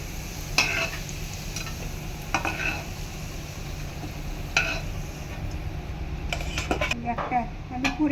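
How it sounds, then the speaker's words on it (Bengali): Masoor dal lentil fritters fry in a pan with a continuous crackling sizzle, broken now and then by a metal spatula clinking as the fritters are stirred and lifted out. "বড়ার ভাজতে থেকে থেকে নামাচ্ছি"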